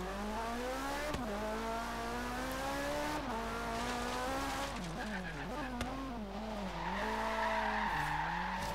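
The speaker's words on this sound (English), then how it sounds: "Woo, awesome drift." Tires squeal in long, wavering whines as a car drifts through a turn in Forza Horizon 3, the pitch bending up and down steadily under a continuous engine drone.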